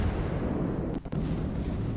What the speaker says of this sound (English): Shots out at the Buffalo.